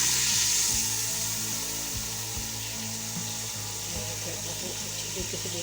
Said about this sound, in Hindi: ये आप देख सकते हैं हमारा चिकन अच्छी तरीके से फ्राई हो रहा है।